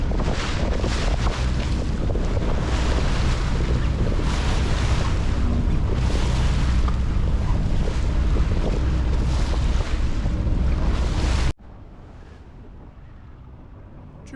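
Steady wind rushes over a Cornish Crabber 26 classic yacht at sea during a channel crossing, mixed with waves and water noise, loud and continuous before cutting to a much quieter background near the end.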